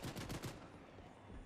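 Submachine gun fire in a video game: a rapid, loud burst of shots in the first half-second, then settling into a noisy in-game rumble.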